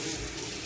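Tap water runs steadily into a basin or tub while a bath is readied for a guinea pig, a close, continuous hissing rush with no voices.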